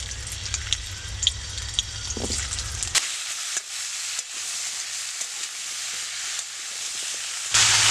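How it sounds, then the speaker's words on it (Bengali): White oil sizzling hot in a kadai as winter vegetables go in for a vegetable khichuri: a loud, dense fry for the first three seconds, then settling into a quieter, steady hiss with light stirring clicks. "কড়াইটা গরম হয়ে গেছে এতে আমি সাদা তেল দিয়ে দেব কড়াইটা গরম হয়ে গেছে এখন সবজিগুলো আমি দিয়ে দিচ্ছি"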